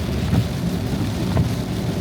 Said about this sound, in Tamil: அப்புறம் இங்கே சரியான மழை, இருங்க காமிக்கிறேன்.